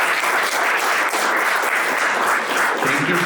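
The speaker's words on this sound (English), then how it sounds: "let's give a big round of applause for Maciej" An audience at a conference presentation on WordPress lead generation gives a burst of loud, dense clapping that holds steady for a few seconds.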